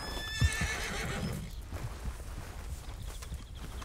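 In Red Dead Redemption 2, a horse gives a short whinny near the start, followed by a faint patter of hooves at low volume.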